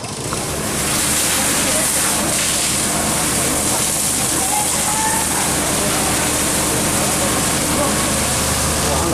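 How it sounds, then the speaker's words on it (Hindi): Water running from fire engine hoses at a factory fire, a loud, steady roaring rush of spray that holds unbroken throughout, with voices talking underneath. "पानी चल रहा है।"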